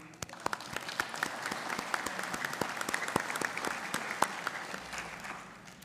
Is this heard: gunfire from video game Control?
no